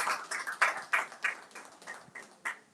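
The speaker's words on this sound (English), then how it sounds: "Can we clap?" An audience clapping at a school Founder's Day debate celebration, a steady patter of many hands at moderate distance, no talking over it.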